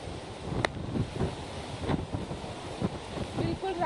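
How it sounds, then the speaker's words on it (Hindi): Strong wind after Cyclone Biparjoy buffets the microphone in a steady roaring rush, with a few gusty thumps and a faint wave-like wash behind it. "तेज हवाएं जो है वो यहाँ पे अभी भी चल रही है"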